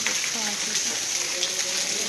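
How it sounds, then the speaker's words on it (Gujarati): Steady heavy rain keeps falling through the night outside a home, a dense even hiss of drops with faint talk over it. "આખી રાત વરસાદ ચાલુ છે. બહુ બધો વરસાદ છે."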